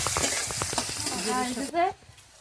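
Green chillies frying in hot oil for a Bengali fish dish give a dense, loud sizzle with quick stirring taps, then a brief tonal, voice-like sound before the frying cuts off sharply near the end.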